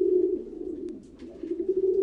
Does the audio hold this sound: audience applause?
no